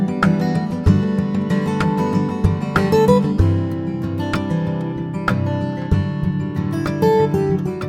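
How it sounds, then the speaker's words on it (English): Sampled steel-string acoustic guitar from the Evolution Songwriter virtual instrument plays bright plucked notes and strummed chords with ringing sustain, clear and close, no voices. "a very popular steel string acoustic guitar"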